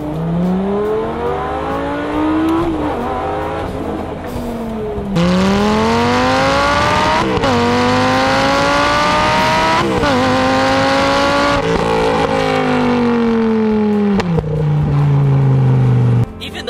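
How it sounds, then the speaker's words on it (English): A Lamborghini Gallardo's 5-liter V10 engine roars close by, pitch climbing through several gears with sharp shifts and a final long high-revving pull. "The 5-liter V10 in the Lamborghini produces some of the most beautiful noises I've ever heard."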